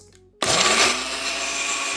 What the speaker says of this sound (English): Blend it up.